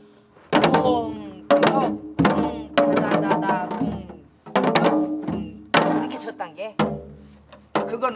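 Janggu Korean hourglass drum played in a basic traditional rhythm, with loud, close, sharp strokes in uneven clusters and a voice mixed in among the beats.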